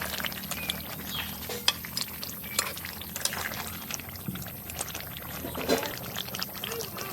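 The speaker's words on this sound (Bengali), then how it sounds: "এবার নাড়িয়ে দেখছি" Cooked goose meat being stirred in a pot over a clay stove: a steady bed of wet, scraping noise with scattered clinks and bumps from the spoon, moderately loud and continuous, with no clear talk.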